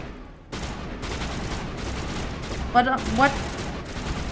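Sci-fi gunfire from Mass Effect crackles in rapid repeated bursts of shots, fairly close and steady, while someone speaks briefly over it.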